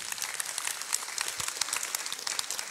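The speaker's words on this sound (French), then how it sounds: "Vos applaudissements pour lui." Theatre audience applauding at a Sorano performance, a sustained crackle of many hands clapping at moderate distance, steady throughout with no talk on top.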